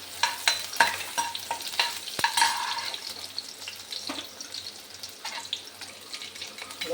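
Finely chopped onions frying in hot oil and ghee with cumin, a steady close sizzle broken by repeated clinks and scrapes of a spoon stirring in the pan, with a sharp knock partway through and no talk.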